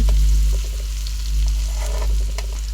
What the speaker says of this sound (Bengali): পেঁয়াজটা ভেজে নেব আগে।